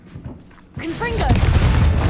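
The Confringo blasting spell fired in Hogwarts Legacy while exploring a cave maze, a loud booming blast that hits suddenly and then rumbles on as a sustained roar, with a voice calling out over it.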